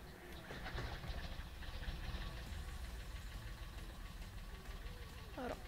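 A Zetor 5211 tractor engine runs steadily with a low, knocking rumble throughout, while a voice speaks over it near the end.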